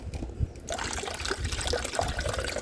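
Water trickles and splashes steadily as it is poured into an indoor plant pot, continuous and close, with a brief quieter moment at the start.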